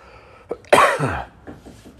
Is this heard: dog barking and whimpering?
no